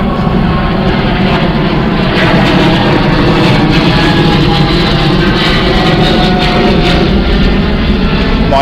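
A plane on the flight path near the sand dunes of Wanda Beach roars loud and close, a steady broad engine rumble holding throughout with no talking.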